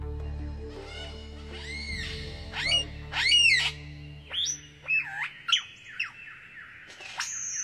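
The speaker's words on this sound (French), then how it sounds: "Un magnifique oiseau lyre, aussi appelé ménure superbe." A superb lyrebird sings a varied run of whistles, squawks and swooping calls, close and loud, each phrase changing abruptly from the last.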